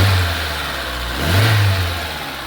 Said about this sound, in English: Let's see if I can give her a rev.